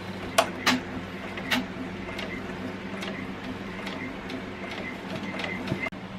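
An embroidery machine stitches out a design with a busy mechanical chatter of rapid needle ticks and clicks, several sharper taps standing out, close and steady throughout.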